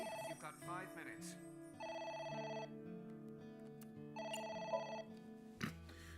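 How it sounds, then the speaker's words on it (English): A telephone rings twice in two repeated electronic bursts inside the video game AI: Somnium Files, with game music and someone talking underneath. "That's the phone."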